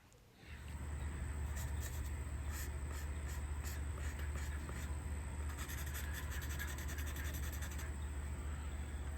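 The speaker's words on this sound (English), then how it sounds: "A little bit of water and my fine sandpaper, very fine, and I just gently scrub away the paint" Fine wet sandpaper gently scrubs paint on a car bumper, a quiet steady rubbing with faint gritty scratches over a constant low hum, starting after a short near-silent moment.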